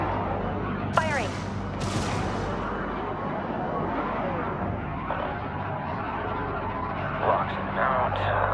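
Spacecraft weapons firing in the Homeworld 3 space strategy game, repeated sharp blasts and rumbling volleys over a dense, continuous battle roar, loud and sustained.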